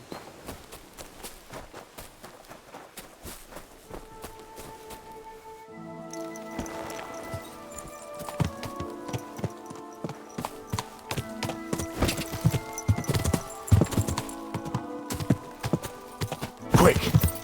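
Horse hooves clip-clop across a medieval setting in Kingdom Come: Deliverance II, a steady walking rhythm building as music swells and scattered game sounds layer in, with a voice shouting briefly nearby.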